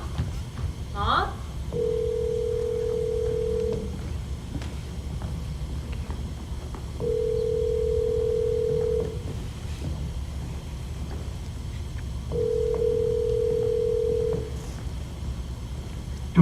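A telephone call rings out unanswered, its long steady ringback tone repeating three times with roughly two-second bursts separated by pauses, clear and close over a low background with brief voices.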